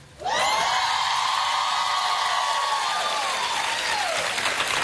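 A large studio audience breaks into loud, sustained applause that swells almost at once and holds steady as a thick wash of clapping, with a faint tone running underneath.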